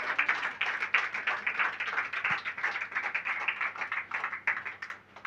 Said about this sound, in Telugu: చప్పట్లు పట్టాలా?